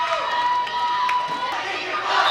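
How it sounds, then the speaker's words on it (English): Fired-up Pearl River home crowd cheering at a high school volleyball bi-district playoff match, a steady wash of voices and shouts sustained throughout with no break. "a fired up Pearl River crowd cheering on their team"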